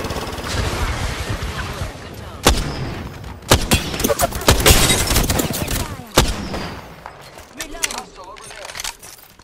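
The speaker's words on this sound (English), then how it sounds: "Opening fire on the enemy." Gunfire in the video game Lifeline: bursts of rifle and machine-gun shots with several sharp loud cracks, a soldier's voice talking between and under the volleys.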